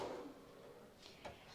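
A drawer in a hotel room at the Disneyland Hotel in Tokyo slides open: a faint, brief scrape followed by a couple of soft knocks, close by and quiet.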